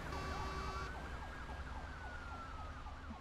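A police car siren in the Arma 3 video game wails in rising and falling sweeps throughout, moderately loud over a steady background rumble, with a brief steady tone near the start.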